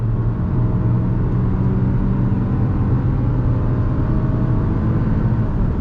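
A 2022 Hyundai Tucson compact SUV under throttle, its engine droning steadily and loudly from inside the cabin for several seconds with a low, even hum and no voices.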